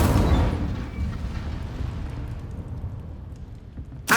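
Incendio fire spell cast in Hogwarts Legacy, a loud whooshing burst at the start that decays into a fading rumble, followed by a short sharp flare at the very end.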